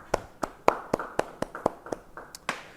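A handful of sharp hand claps ring out in an uneven rhythm during a Christmas church service, about ten separate claps from a small part of the congregation rather than full applause, fairly close and clear with no talk over them.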